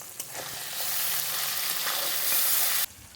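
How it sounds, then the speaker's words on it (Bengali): Nigella seeds, green chili and tomato sauté in hot oil with a steady, close sizzle and occasional stirring scrapes, then the frying cuts off abruptly near the end. "এখানে দিলাম কাঁচা লঙ্কা, আর দিয়ে দেবো টমেটো। দিয়ে ভালো করে একটু কষিয়ে নেব।"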